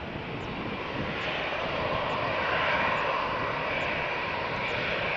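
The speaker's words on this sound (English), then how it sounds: "And Malta Air inbound from Stansted." A Malta Air airliner arrives at Faro Airport, its engines making a steady, broad roar that swells slightly as it nears, heard from the ground with no speech.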